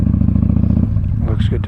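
A Kawasaki Vulcan cruiser motorcycle idles with a low, pulsing engine rumble as it pulls in to park, close and fairly loud, with a short clatter near the end.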